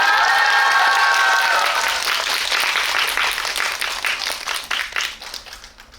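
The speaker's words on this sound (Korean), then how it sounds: "여러분 박수 길게 쳐주세요." A cinema audience applauds as a film director and an actor come on stage for a special screening Q&A: steady, dense clapping from many hands fills the hall at full strength, then thins and tapers off near the end, with a brief voice at the start.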